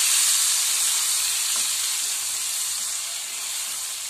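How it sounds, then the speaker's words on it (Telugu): Tamarind pulp simmering in hot oil for a Telugu-style garlic pickle gives a steady, close, bright sizzling hiss that holds evenly throughout with a faint tick partway through, no voices. "ఈ చింతపండు చూసారా చాలా బాగా ఉడుకుతుందండి"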